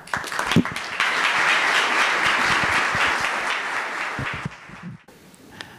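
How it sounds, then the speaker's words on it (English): An audience at a business forecast breakfast bursts into loud, sustained applause, many hands clapping densely for about four seconds before it thins out and fades to a few scattered claps. "I'd like to offer one more round of applause for Chad."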